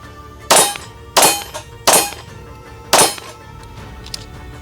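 Four sharp gunshots from an Atlas Gunworks Erebus pistol ring out at a steady pace, loud and close, each with a short ringing tail, and a faint metallic clink follows near the end.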